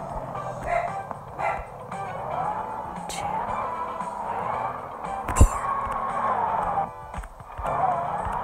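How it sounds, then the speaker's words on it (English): A dog barks and yips indoors in several short bursts, set against steady game sounds and a tonal background. "My dog's been annoying."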